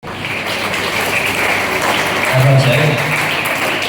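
A crowd gives steady, dense applause to welcome guests at a high school farewell ceremony for retiring teachers, with a faint voice briefly rising under the clapping.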